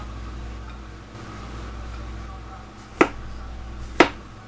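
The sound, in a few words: slicing cucumber with a knife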